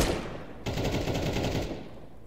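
Automatic gunfire in the video game Counter-Strike 2: a loud, dense burst of rapid shots lasting about a second, set over steady background game noise.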